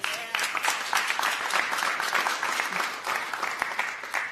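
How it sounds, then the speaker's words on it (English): A modest round of applause from an audience at a live event in Atlanta, scattered claps of moderate loudness lasting a few seconds. "That alone deserves a round of applause."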